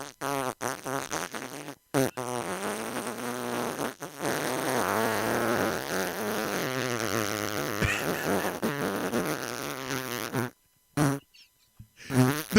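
A long, loud fart sound effect blares for about ten seconds with a rippling, sputtering buzz, then breaks into a few short bursts separated by silence.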